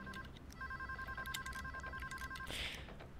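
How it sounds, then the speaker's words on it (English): Telephone ringing in the video game PayDay 2, an electronic trilling ring in two sustained bursts over a busy background of clatter and game noise, fairly faint. "Come get the phone, bro."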